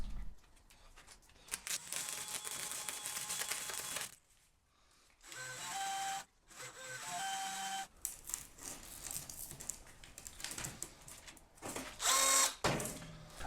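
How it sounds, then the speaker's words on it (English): An electric drill spinning a makeshift pulley, clamped to a table, whirs in spurts, stopping and starting several times with short pauses, its mechanical whine rising and falling close by. "And I'll make a makeshift pulley for my drill just for testing."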